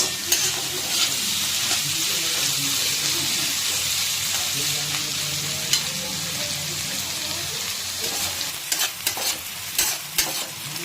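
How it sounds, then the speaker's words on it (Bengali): Chopped onions fry in hot oil with cumin and a piece of cinnamon for a chicken curry, giving a continuous close sizzle with occasional scraping stirs near the end. "পেঁয়াজটাই দেখুন 10 মিনিট মতন প্রায় ভাজা হয়ে গেছে"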